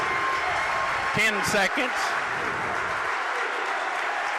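A high school girls' basketball crowd at a regional championship game cheers and claps, a broad wash of applause and crowd noise under a commentator's brief speech.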